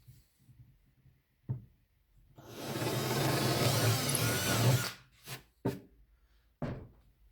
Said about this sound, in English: So I drill a clearance hole to tell me where I'm going to be.